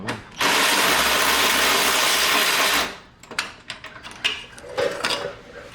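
A ratchet undoes screws on a BMW M340i grille: a loud, fast, continuous ratcheting buzz for about two and a half seconds, then scattered clicks and light clanks, close by.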